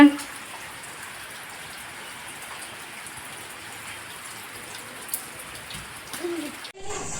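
Rain falling steadily on a village homestead on a new-moon festival day, a soft even hiss throughout with a few louder knocks near the end, no speech.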